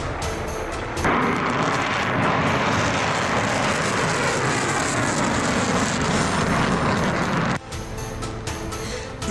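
Iranian missile and suicide drone strikes, a sustained loud roaring blast-like rumble filling the whole span, dense and broadband, dropping slightly toward the end with no voices.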